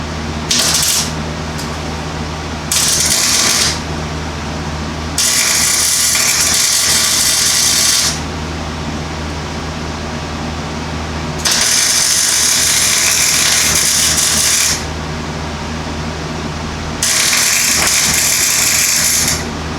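Bursts of harsh, crackling buzz from tack welding an exhaust stack to an adapter on a lifted Civic switch on and off several times, each lasting a few seconds over a steady hum.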